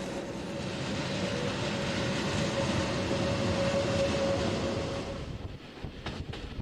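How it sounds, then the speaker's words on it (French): Red and white train rolling through Teufen village in Switzerland, a steady rumble of wheels and carriages with a faint squeal, passing close and fading slightly toward the end. "L'église au centre, sobre et imposante, toise le convoi rouge et blanc qui roule"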